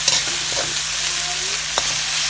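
Tomatoes and pork sizzle steadily in a pan while being stirred, a constant frying hiss with occasional scrape and clack of a utensil against the pan.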